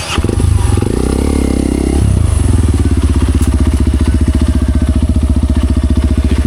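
A trail motorcycle engine-braking down a steep hillside during a hardcore moto trail challenge in Mountain Province, its close, loud engine throbbing in a steady rapid pulse, with a brief higher revving surge early on.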